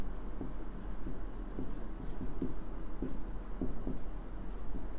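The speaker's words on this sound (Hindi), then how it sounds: "एक लाइन लिख दीजिए चाहे" A pen or pencil writes a line on paper, giving soft, rhythmic scratching strokes that repeat steadily at close range against a quiet background.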